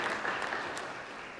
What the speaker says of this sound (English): Clap for us now.